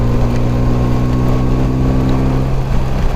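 A BMW motorcycle engine drones steadily at highway speed around seventy miles an hour, a loud continuous hum with wind rush that shifts slightly in pitch as the throttle opens, with no talking.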